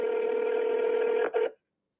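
A telephone dial tone or keypad tone sounds steadily for over a second, breaks briefly, gives a second short tone, then cuts to silence, all clear and close.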